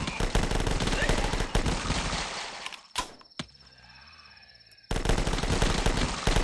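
Gunfire from the old Flash game The Last Stand: dense, loud bursts of rapid shots fill the opening seconds, then a couple of sharp single reports, a quieter gap with a tone, and another heavy burst of firing.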